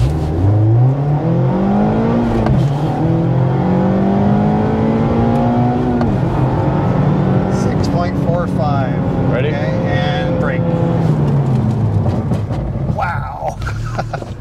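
A 2002 Mazda Miata SE on a timed run, engine revving and droning up and down through gear changes loud and close inside the car, with ABS working under braking and people talking over it.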